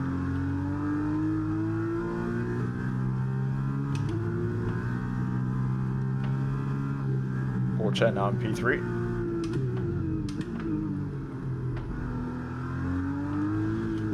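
Formula 1 car engine in the F1 23 racing game, cockpit view, with steady high-pitched revving and gear shifts rising and falling throughout, under a voice speaking.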